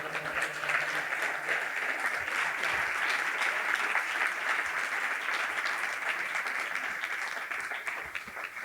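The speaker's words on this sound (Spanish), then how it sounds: "así que un gran aplauso para Rafa." Sustained applause from a sizable crowd, dense steady clapping at even loudness throughout.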